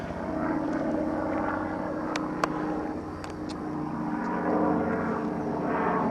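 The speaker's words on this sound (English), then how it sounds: "I can hear a chopper coming." A helicopter passing overhead, its steady rotor and engine drone filling the scene, loud and near, with a few faint clicks and knocks on top; no speech.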